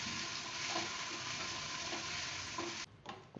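Chopped tomato sautés in a pan for bread masala, with a steady close sizzle, occasional stirring scrapes, and a brief pause near the end.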